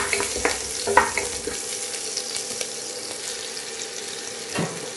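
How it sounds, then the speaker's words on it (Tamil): Spices, dry lemon, green chillies and capsicum sauté in a pan for mutton mandi, giving a steady soft sizzle with a few stirring scrapes near the start and again near the end, no talk. "பச்சை மிளகாய், குடமிளகாய் இதையும் சேர்த்துறப்போ இதெல்லாம் சேர்த்து லேசாக வதக்கலாம்."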